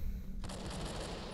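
Gunfire in the horror video game Slender Man: Prey of Doom, a dense, loud stretch of rapid shots rattling over a constant rumbling game background.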